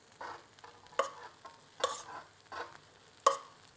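Cooked rice being stirred and folded through oil in a wok for special fried rice: a steady low sizzle with four or five sharp scraping strokes spaced about a second apart, fairly quiet, with no voices.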